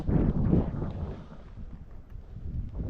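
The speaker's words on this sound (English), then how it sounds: "the wind is going so bad right now, you can't even hear us having a conversation" Outdoor wind buffets a microphone in low, rumbling gusts. It is strongest at the start, then settles into a steady muffled roar.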